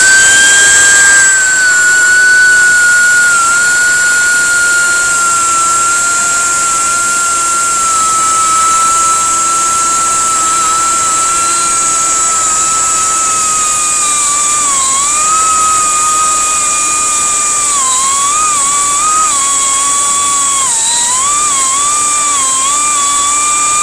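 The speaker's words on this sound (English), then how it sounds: "I'm going to see if I can carefully try to grind out that piece." A high-pitched rotary grinder whines loud and close, grinding out a piece of metal during a big-block engine swap into a 1957 Chevy, its pitch wavering slightly as pressure on the workpiece changes.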